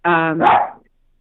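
A single dog bark, loud and close, one sharp burst lasting under a second and then silence.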